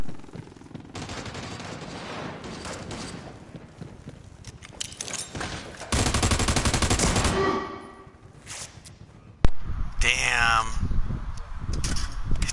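Bursts of gunfire in a PS4 shooter game, with rapid automatic volleys and single shots that come and go between quieter stretches, ending in a sharp loud blast followed by further shooting.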